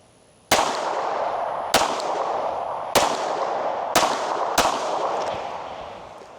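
Five sharp gunshots from a Glock 17 Gen 5 pistol, spaced about a second apart, each loud crack trailing off into a ringing outdoor echo, with no talking.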